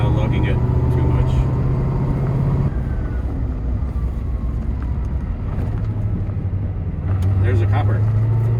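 A manual Corvette engine lugs at low revs in third gear, a deep steady drone with a low rumble that shifts pitch as the car moves, heard from inside under a voice.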